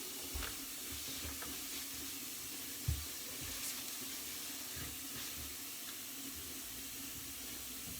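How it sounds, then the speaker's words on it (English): Water runs from a newly installed bathroom faucet into the sink drain, a steady hissing flow with a few soft knocks and clunks along the way. "you can watch the water drain and see whether there are any leaks"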